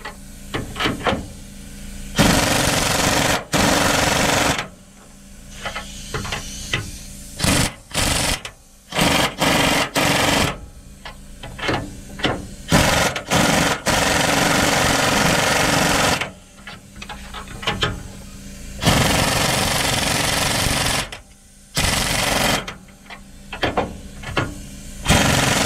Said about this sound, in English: right now we're just trying to get the U-bolt tight.